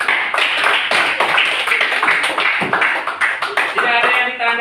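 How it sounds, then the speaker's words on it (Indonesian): Classroom applause for a student group's presentation, dense and steady clapping from many hands close by, with some voices mixed in. "tepuk tangan dulu buat hasil pendapat dari kelompok 3"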